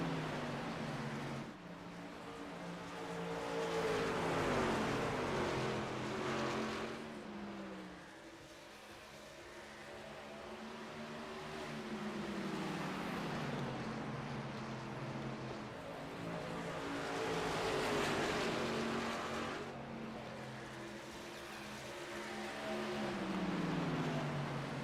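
Racing truck engines in a simulated oval race at Iowa, a continuous loud drone with rising and falling pitch sweeps as trucks pass and shift through gears, repeating in several swells over the run.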